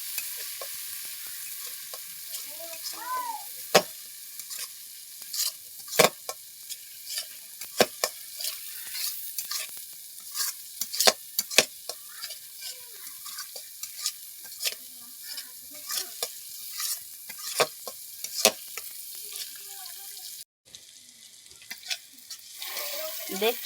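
Spice paste sautéing in hot oil in a pan for a soybean and potato curry, a steady close sizzle broken by repeated sharp scrapes and clicks of a spoon stirring, with no talk.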